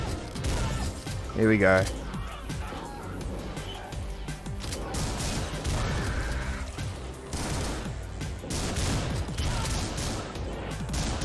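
Gunfire in the video game Butcher, rapid bursts of dense crackling shots and crashes over game music, with someone talking briefly during the action.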